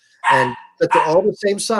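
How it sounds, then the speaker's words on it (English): A pet dog named Hamlet barks in short bursts in the background of a home setting, mixed in with people talking over it. "Oh, sorry, that's my dog."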